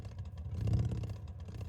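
A motorcycle engine in the video game Motorcycle Mechanic Simulator 2021 revs briefly and loudly, swelling to a peak and easing off, with no voices.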